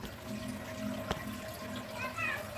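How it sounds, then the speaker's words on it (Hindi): Water running down from a forested hilltop, a steady rushing flow with a faint voice mixed in and a brief sharp knock midway. "देखें पहाड़ के ऊपर से पानी निकल रहा है कैसे।"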